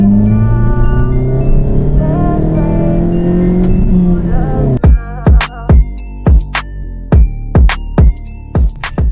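VW Golf Mk6 1.4 TSI with a sports cat downpipe, loud engine drone rising under acceleration, then a rapid series of sharp exhaust pops and bangs on gear changes and lift-off, close and aggressive.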